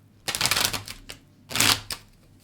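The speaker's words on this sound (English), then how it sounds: "they want me to shuffle one more time." A deck of tarot cards being shuffled in two quick riffling bursts, close and crisp, with quiet pauses around them.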